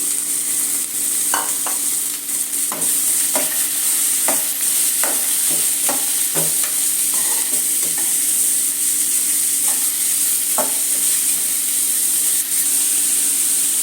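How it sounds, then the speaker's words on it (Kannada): Chopped ridge gourd goes into tomatoes frying in a pan, giving a steady loud sizzle with repeated stirring scrapes and clicks of the spoon against the pan throughout. "ಈಗ ಕಟ್ ಮಾಡಿ ಇಟ್ಕೊಂಡಿರೋಂಥ ಪಡವಲಕಾಯಿ ಹಾಕ್ತಾಯಿದ್ದೀನಿ"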